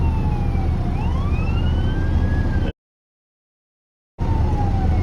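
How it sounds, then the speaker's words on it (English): Fire truck and ambulance sirens wail as they pass, loud rising and falling tones over traffic rumble, cut off by a stretch of total silence before the siren tone returns. "here comes the ambulance. There's that fire truck."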